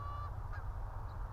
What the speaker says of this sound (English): geese, nice